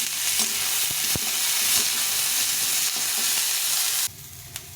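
Shredded cabbage and carrot fry in a pan, a loud, continuous sizzle with occasional stirring scrapes and clinks, the hiss dropping off abruptly near the end and leaving a quieter simmer.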